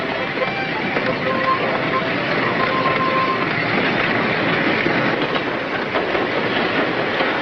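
A train running along the rails, a steady rumbling rattle of railroad cars heard continuously at moderate loudness, with a faint whine and no talking over it.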